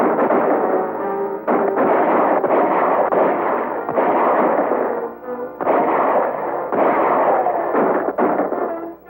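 Gunfire in an action adventure movie, loud bursts of repeated shots in dense clusters separated by short pauses, with no talking.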